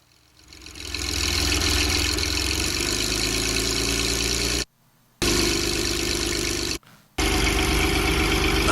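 A Porsche flat-12 car engine runs loud and steady close by, a low droning idle that rises in pitch as it is revved, with two brief cuts to silence before resuming.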